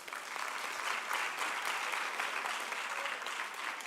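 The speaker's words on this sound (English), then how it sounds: "it deserves a round of applause" An audience breaks into sustained applause at the official opening of the National Arts Festival, a thick, steady clapping that stays at an even, moderate level from start to finish.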